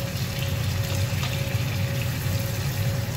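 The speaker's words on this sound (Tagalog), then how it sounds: "Mag-add lang tayo mga katiyoy friend ng konting tubig." A little water goes into a pan of sautéed squash and pechay, giving a steady, rushing hiss and bubble, close and constant with no talking.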